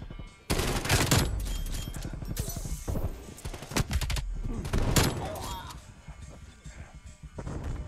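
Gunfire in Call of Duty Black Ops Cold War on the Nuketown '84 map: repeated loud bursts and sharp single shots spread across the clip, mixed with impacts and occasional game noise, and no one talking.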